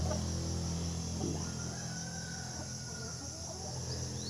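A hen clucking after laying an egg in a rural yard, with faint scattered clucks and calls over a steady low background hum, distant rather than close.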